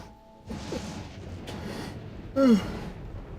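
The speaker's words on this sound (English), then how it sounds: "Oh, God, a big yawn." A big yawn, a drawn-out breathy exhale with a brief voiced rising-falling groan near the end, close and fairly loud.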